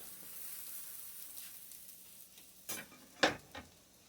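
A pancake frying quietly in a pan gives a faint, steady sizzle, then a few louder scraping clicks near the end as a small knife slides under it and flips it.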